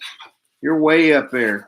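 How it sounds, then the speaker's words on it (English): A pet dog yelps and whines in short bursts close by, mixed in with voices of people talking during a relaxed live chat after a coin club meeting. "So y'all can hear my dog in the background and my girls."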